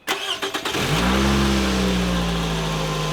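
Car engine cranking with a quick run of starter clatter, then catching and settling into a steady idle with a rising hum, heard close after a valve cover gasket replacement.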